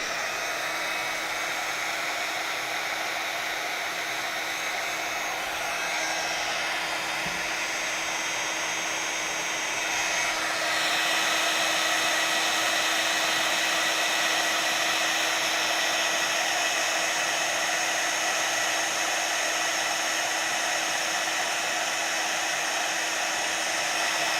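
A handheld heat tool blowing hot air over an art journal page, a continuous close whooshing roar with a thin whine, holding steady for over twenty seconds and getting slightly louder partway through.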